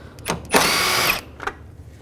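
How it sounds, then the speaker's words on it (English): A short burst of a power tool whirring close by, about half a second, while removing bolts from a Chrysler 200 bumper with a 10mm socket, framed by brief clicks before and after. "I'm going to take these two bolts out, use a 10mm socket"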